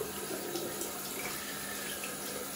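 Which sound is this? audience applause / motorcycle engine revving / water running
water running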